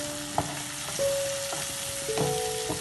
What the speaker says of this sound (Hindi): अब इसमें हम लोग ड्राई मसाला जो हम लोग भिगो के रखा था वो डालेंगे। अब इसे भूनेंगे